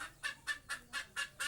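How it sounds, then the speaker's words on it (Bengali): Large free-ranging laying hens call in six quick, evenly spaced clucking bursts, faint and close together. "এগুলো আমার ডিম পাড়া মুরগি"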